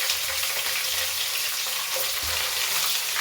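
Green chilies and chana dal fry in hot oil with a steady, close, dense sizzle and crackle, with a few faint stirring scrapes, no voices.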